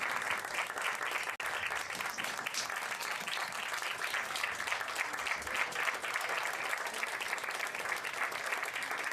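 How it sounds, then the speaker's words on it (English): Audience applause for students at a human rights day event, a steady dense wash of many people clapping throughout, moderately loud with no talk over it. "A round of applause to TSU students Jasmine Bolden and Zaria Hubbard."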